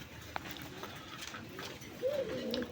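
A pigeon coos close by, a soft warbling call that swells near the end over low background noise, with faint taps and murmurs around it.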